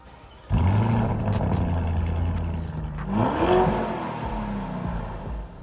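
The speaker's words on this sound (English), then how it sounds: "We've got a Urus in, which sounds like this at the moment." A Lamborghini Urus on its stock exhaust starts up and revs loudly up close, a deep burbling roar that settles, then rises into a second rev before easing back to idle.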